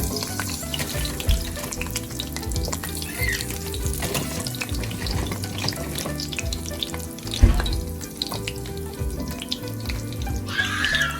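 Grease sizzling in a frying pan on a stovetop, a loud, steady crackle that runs throughout, with a few brief spits and pops and no talking.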